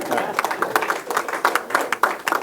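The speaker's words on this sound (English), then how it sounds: "that deserves an applaud, right?" A small group claps at a Bahamas Bowl press conference, with distinct, close hand claps in an uneven patter for a couple of seconds.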